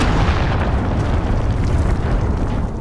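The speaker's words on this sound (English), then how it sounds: "Cruise missile incoming." A cruise missile explodes in Call of Duty Modern Warfare, a loud, sustained roaring blast that fills the whole moment with dense rumbling noise close by.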